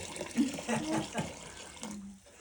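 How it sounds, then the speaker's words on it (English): Water pours and splashes steadily at close range, flowing over the top of a bucket in a glaze room, with a broad rushing wash that cuts off near the end, leaving quiet. "I go straight down in and let it flow over the top of the bucket"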